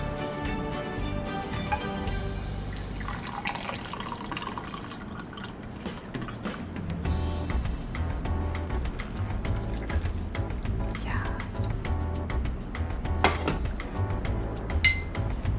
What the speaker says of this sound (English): And now we're going to start pouring in the chai.